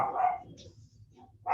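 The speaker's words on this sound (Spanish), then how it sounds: "terminan de ladrar los perros" Several dogs bark at a distance in a home after the doorbell rings, a couple of short, faint bursts separated by a quiet pause.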